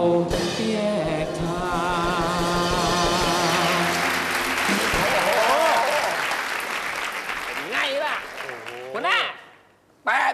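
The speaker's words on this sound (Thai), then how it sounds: "เขามีเสียงปรบมือ" Clapping hands fill the scene steadily over music and voices, a sustained round of applause that fades near the end.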